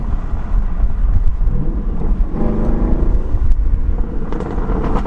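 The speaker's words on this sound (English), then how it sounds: "Rev match. I'm about to downshift." A Camaro SS with an H-pipe exhaust rumbles deep and loud, engine revs swelling sharply as it rev-matches for a downshift, then settling back to a steady drone.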